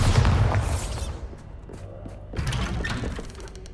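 A Bombarda blasting spell in Hogwarts Legacy goes off as a loud, full explosion at the start, then its rumble fades before a second rattling burst of debris and impacts follows.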